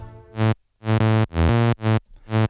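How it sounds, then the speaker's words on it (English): Five bright, buzzy saw-wave synth bass notes with rich harmonics, each held briefly with short gaps between, playing alone in a simple rhythm. "we start with a little saw wave"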